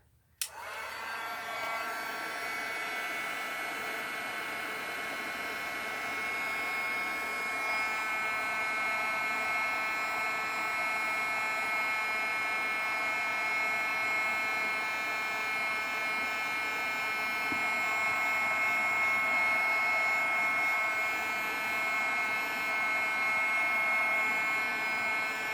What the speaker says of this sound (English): I'm going to use my heat gun real quick